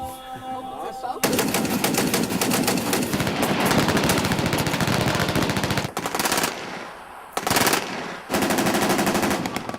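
Heavy large-caliber gunfire booms at a shooting range in rapid strings of shots, loud and close, with brief pauses between bursts.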